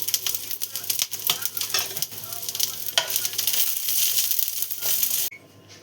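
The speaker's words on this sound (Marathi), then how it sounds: "हे आपण घेतलं ते अख्खे मसाले सगळे ते पण यात टाकून देऊया।" Whole spices crackle and sizzle in hot oil close up for a traditional Marathi besan vada curry, a dense, loud frying hiss with scattered pops and stirring scrapes that cuts off abruptly near the end.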